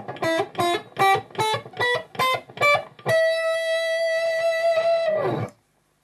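A distorted electric guitar plays a Phrygian scale, a run of single notes in an even rhythm, then rings out on a long sustained note before cutting off.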